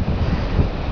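Storm wind roars steadily across a microphone in Altus, Oklahoma, a dense, rumbling buffeting with low gusting surges and no speech, loud and continuous throughout.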